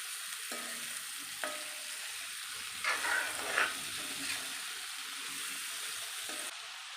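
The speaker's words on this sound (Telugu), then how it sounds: "తాలింపంతా ఇలా కలపాలి మంచిగా ఉప్పు పసుపు అవన్నీ కలిపేలాగా మంచిగా కలపాలండి" Cucumber pieces in a tempering of salt and turmeric are stirred in a frying pan, giving a low steady sizzle with a few scraping strokes of the spoon and no voices.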